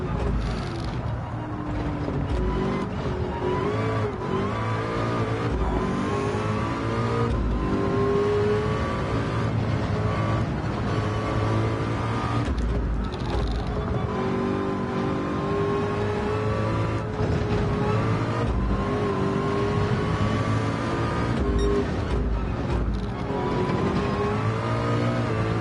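Race car engine in the Le Mans PSVR2 game, held at a steady loud drone with shifting pitch as it accelerates and changes gear for the whole stretch, no voices.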